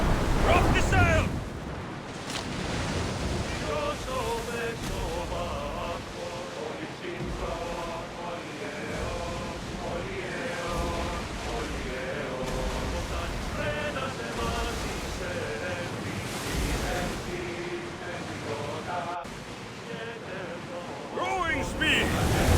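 A ship in the Assassin's Creed Odyssey video game surges through ocean waves, with a constant rush of surf and wind washing underneath tonal game music and background voices, steady and loud from start to finish.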